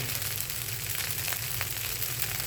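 Tomato rice sautéing in a pan, a steady close sizzle and crackle running the whole time with a low hum beneath, no voices.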